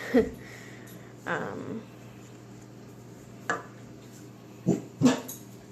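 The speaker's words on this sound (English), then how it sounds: "my dogs are barking at them" Dogs bark in short bursts, several sharp barks scattered over a steady background hum, somewhat distant and moderately loud.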